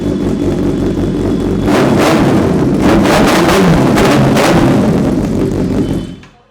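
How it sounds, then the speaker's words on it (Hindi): A Kawasaki ZX-10R inline-four motorcycle engine runs loud and close with a deep, bass-heavy exhaust, blipped through several sharp revs over a steady idle before cutting off. "हमारा हरा गॉबलिन कावासाकी ZX-10R, जो कि हमारा इनलाइन 4 इंजन है"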